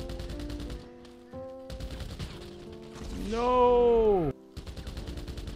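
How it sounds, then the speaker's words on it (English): Marksman rifle fire in GTA Online: a burst of loud sharp gunshots over a game mix, followed by a strong rising-and-falling tonal sweep before a brief cut to silence. "He's like really using a marksman rifle though."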